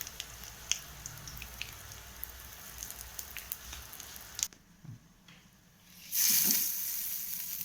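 Curry leaves and asafoetida hit hot tempering oil with popped mustard seeds, giving a soft crackling sizzle with scattered pops, then a louder burst of hissing near the end.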